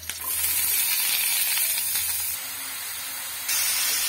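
Chopped onions and green chillies hit hot oil with cumin in a kadhai, giving a loud, steady sizzling hiss that holds for several seconds, drops briefly, then surges again.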